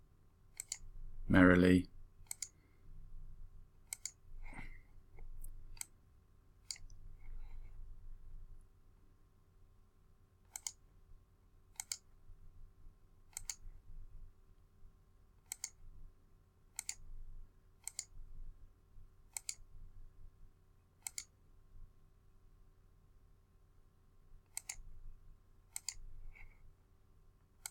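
Computer mouse clicking at a steady, sparse pace while tracing a line, sharp isolated clicks in a quiet room with a brief word spoken near the start.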